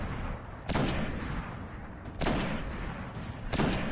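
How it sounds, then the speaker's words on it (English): Three loud bursts of gunfire in the Destiny video game, aimed at the legs of a tank during a nightfall strike against Valus Ta'aurc, each a heavy booming volley roughly a second and a half apart over a constant background rumble. "Shooting at his legs."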